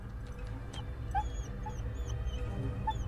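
A dog whimpers in a film scene, giving soft, high, repeated whines and yips over a low rumble of background noise.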